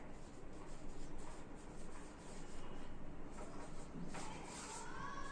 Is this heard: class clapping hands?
no